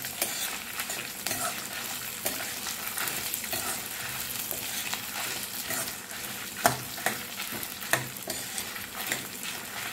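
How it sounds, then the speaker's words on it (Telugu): Curry leaves rice is mixed in a pan over a continuous sizzle, with steady scraping strokes and a few sharper clinks of the spoon near the end. "ఒకసారి కలుపుదాము."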